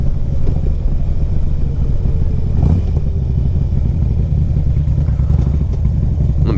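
A Harley-Davidson Street Glide CVO motorcycle with a 103 motor rumbles loudly and continuously nearby, with a deep throbbing engine tone and a brief swell partway through.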